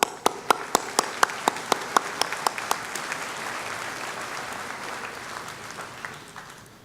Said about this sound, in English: So I'd like to join a round of applause for them as well